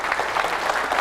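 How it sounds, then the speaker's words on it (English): An audience at a Bitcoin conference session applauds, a short burst of moderately loud, even clapping that carries on without pause. "So I want to give him a big round of applause."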